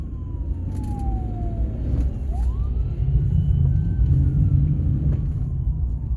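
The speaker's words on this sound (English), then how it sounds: "I hear a siren and I'm trying to be a responsible driver" An emergency vehicle siren wails faintly in the distance, its pitch sliding up and down, heard from inside a moving car over a loud steady road rumble.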